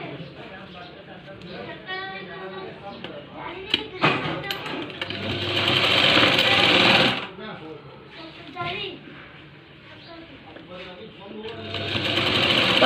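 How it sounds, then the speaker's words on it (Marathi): Close sewing machine running a cover stitch on an inverted blouse, a steady fast whirring hum in bursts that rise and stop, with handling clatter and a voice talking over parts of it. "ब्लाऊज उलटा करून पुन्हा एक कवर शिलाई मारून घ्यायची।"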